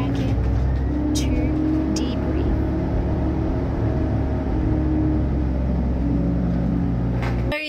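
A tank with a turret stabiliser drives along, its engine a loud, continuous low rumble close up, with a voice talking over it.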